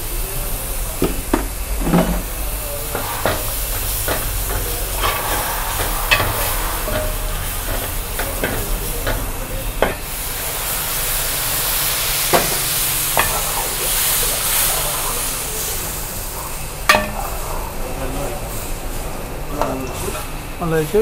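Masala with coriander powder being stirred and fried in a pan, a steady sizzle and hiss with irregular scraping and clinks of a spoon, as a person talks over it.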